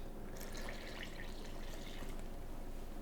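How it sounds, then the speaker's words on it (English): Distilled water poured into a bowl for sourdough bread dough makes a steady, soft trickling splash lasting a few seconds, faint and continuous, with no voices. "what I like to do is put the water in first"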